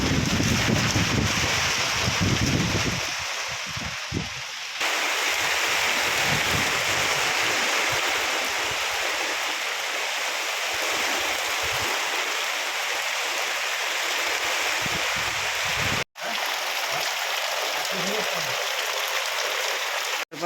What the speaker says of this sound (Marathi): पाऊस पडतो बघा सुरुवात झाली पावसाला पडायला